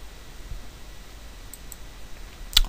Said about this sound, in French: vous allez voir ce qui se passe si je clique ici